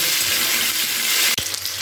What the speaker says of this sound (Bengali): কপিটাকে এখানে ভাজতে দিয়ে দিলাম